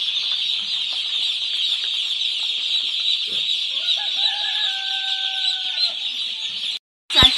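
Day-old chicks and chickens in a brooder on a poultry farm make a continuous high peeping chorus, with a few louder calls in the middle and a brief clunk near the end. No one speaks.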